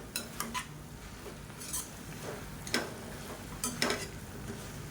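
Coriander and mint leaves sautéing lightly in a pan, a faint low sizzle under sparse sharp metallic clinks and scrapes of a spoon against the pan.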